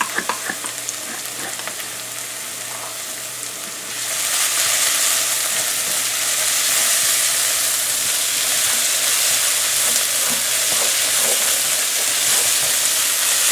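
Crushed garlic hits hot oil in a pan and erupts into a loud, steady sizzle that swells after a quieter start and holds on, close and continuous, while bitter melon and shrimp are being fried.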